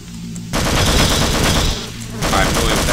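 Rapid automatic gunfire from the video game Half-Life: Blue Shift rattles loudly and continuously in two long bursts separated by a brief pause.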